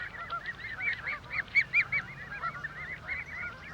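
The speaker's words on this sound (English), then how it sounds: "Many park keepers now regard Canada geese as pests" Canada geese in Battersea Park honk repeatedly in a busy overlapping chorus, calls rising and falling at moderate distance over a steady outdoor background.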